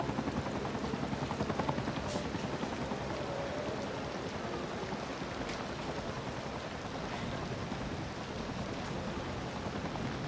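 A helicopter in the city-builder game Cities: Skylines 2 flies toward a hospital helipad, its steady rotor drone filling the scene with a constant, fairly loud whir and no voices over it.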